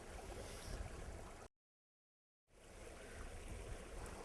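Water running steadily over gravel in a small stream, a close, continuous broadband rush that cuts to full silence for about a second before resuming.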